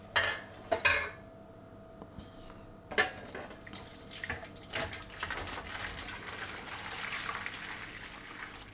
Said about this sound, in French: Je vais verser l'eau.